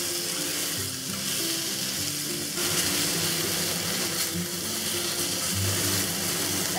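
Fish fillet frying in a hot pan, a loud, dense, steady sizzle and crackle running through the whole stretch with no voices.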